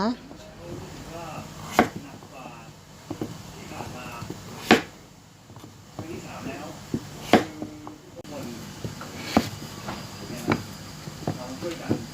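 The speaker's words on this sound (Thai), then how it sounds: "พอได้ฟักทองแบบนี้แล้วนะคะ หั่นตามแบบที่เราต้องการได้เลยนะคะ" Sharp knife chops through pumpkin land on a cutting board at irregular intervals, several distinct thuds with quiet kitchen background between them.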